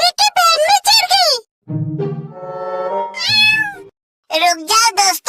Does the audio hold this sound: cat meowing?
yes